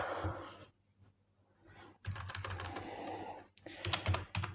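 Typing on a computer keyboard, close bursts of rapid key clicks separated by a short pause, with a louder final flurry of keystrokes.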